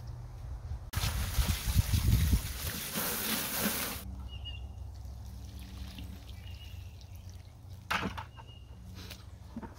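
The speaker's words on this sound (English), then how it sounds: "I'll rinse them one more time" Water pours over freshly dug winter carrots being rinsed, a loud gushing splash lasting a few seconds, then quieter drips and a brief second trickle nearby.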